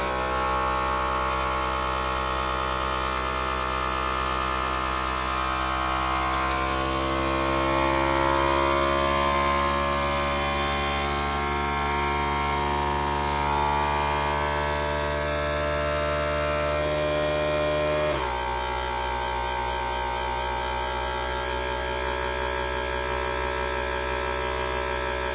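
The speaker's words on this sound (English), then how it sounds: "And then I vacuum seal it." A vacuum sealer runs steadily as it seals a bag of cheese, a loud continuous motor hum and drone that shifts in pitch partway through, with no voices.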